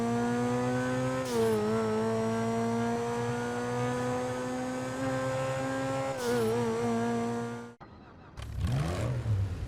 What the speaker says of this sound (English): That high revving V12 sound is aggressive.